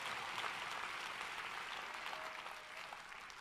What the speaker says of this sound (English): And look at them cheering.